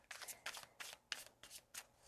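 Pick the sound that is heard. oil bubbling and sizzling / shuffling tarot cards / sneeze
shuffling tarot cards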